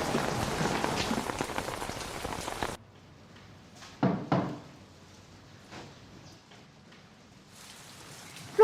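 Heavy rain pours down steadily and loudly for a few seconds, then drops abruptly to a faint patter broken by a couple of brief knocks.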